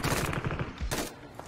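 Rapid gunfire in a shooting video game, loud rattling bursts in quick succession, close and harsh, with no voices over them.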